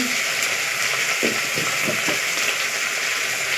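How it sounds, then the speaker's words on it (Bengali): Dried fish sautéing in a pan with chopped tomato, turmeric, salt and spices, a loud continuous sizzle close by with a few soft stirring scrapes partway through, no talking. "গুঁড়ো লঙ্কা আর জিরে ধনে বাটা ভালো করে একটু কষিয়ে নেব"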